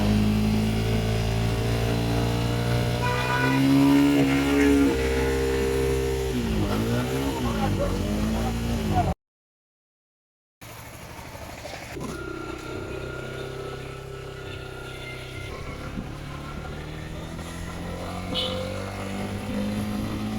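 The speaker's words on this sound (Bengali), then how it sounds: "এখন স্টার্ট দেওয়া হচ্ছে বাইকটি।" A Suzuki Gixxer motorcycle, fitted with a temporary spring for a cut cable, starts and runs: a loud engine revving up and settling, then a brief gap before a steadier running drone with some road noise nearby.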